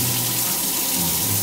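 A kitchen tap runs in a steady, continuous stream throughout, close and fairly loud, with no voices over it.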